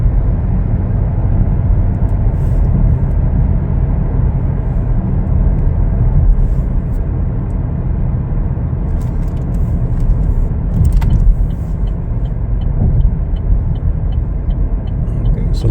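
A 2021 Chevrolet Blazer LT on a test drive, with a steady, loud interior engine and road drone that swells slightly as it accelerates, continuous throughout with no talk.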